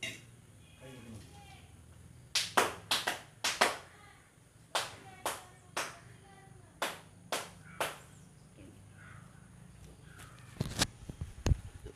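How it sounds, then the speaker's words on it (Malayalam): Hands clap outdoors to call crows for a Karkidaka Vavu bali offering at home: a series of sharp, fairly close claps in short bursts over a faint background, with some brief low voice. "കൈ നനച്ച് മൂന്ന് തവണ കൈയടിക്കുക."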